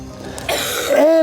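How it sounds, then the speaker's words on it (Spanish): A single harsh cough up close, followed by a rough throat-clearing sound that trails into a brief voiced tone. "La tos, es que no se me va nunca."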